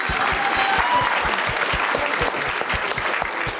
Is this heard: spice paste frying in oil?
no